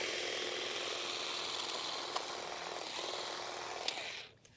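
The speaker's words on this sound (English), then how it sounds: "the HSA 26, 12 centimetres of grass trimming goodness" A STIHL HSA 26 cordless grass trimmer cuts along grass edges near shrubs, a continuous buzzing motor drone with faint clicks that stops near the end.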